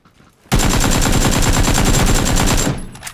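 AK rifle firing on full auto in the video game PUBG: one sustained, loud rapid-fire burst of evenly spaced shots after a brief quiet start, ending abruptly with a few faint clicks.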